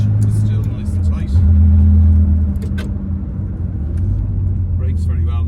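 A 1982 Porsche 911SC 3.0 engine pulls away from rest, a loud, close, steady low drone that holds and shifts pitch as it accelerates, with light clicks and interior noises on top.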